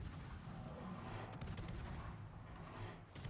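Guns of an American Tier 10 destroyer, the Burrows, fire in World of Warships as a few sharp shots over a steady low rumble of sea and engine, with no voices.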